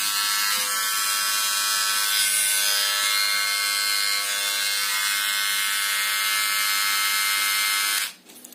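A Philips QT4011/15 beard trimmer runs with a steady, close high-pitched electric buzz that holds constant for about eight seconds, then cuts off abruptly as it is switched off.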